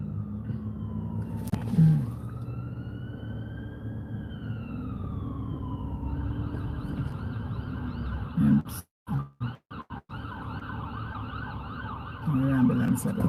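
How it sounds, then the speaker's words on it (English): An ambulance siren wails, rising and falling over steady traffic rumble, mid-distance, with a few abrupt dropouts partway through before the noise returns. "Ambulance."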